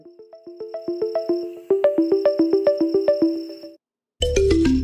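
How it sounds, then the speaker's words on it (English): A bright electronic chime melody plays a quick repeating pattern of tones, clear and close, then stops before a brief burst of other sound. "Just got a notification."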